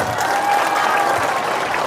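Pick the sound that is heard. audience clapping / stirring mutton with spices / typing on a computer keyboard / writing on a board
audience clapping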